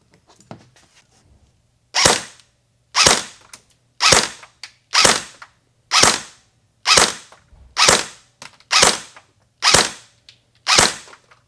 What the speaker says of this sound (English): So as you can probably hear, that turnaround or that reaction of the rifle was much slower